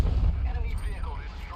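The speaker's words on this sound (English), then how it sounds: "Enemy vehicle destroyed." A video game enemy tank destroyed by gunfire, heard as a heavy booming blast that rolls and rumbles through the clip, with a voice talking under the game noise.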